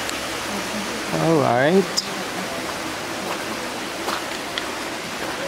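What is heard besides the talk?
waterfall in Queen Sirikit Botanic Garden, Chiang Mai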